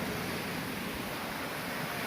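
Steady rushing of river water along a hiking trail in the Appalachian mountains of Virginia, a continuous broadband wash heard alone with no voices.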